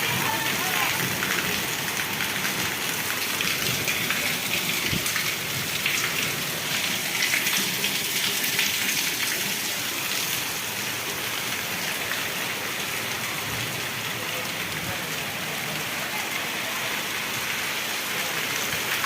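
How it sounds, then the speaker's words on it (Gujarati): Heavy village downpour during a windstorm in Mangadh, Gujarat: a dense, unbroken roar of rain on surfaces holds steady and loud throughout, with no other sounds standing out. "સતત એક ધારો એવો ને એવો જોરદાર વરસાદ વરસી રહ્યો છે"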